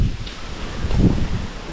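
Strong wind blowing outdoors near a volcano, a steady rushing roar buffeting the microphone with low rumbling gusts and no voices.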